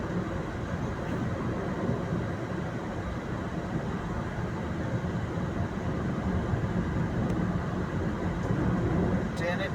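Inside a moving, nearly empty air-conditioned chair-car train carriage, a constant low rumble and rattle runs steadily throughout, with faint voices at times.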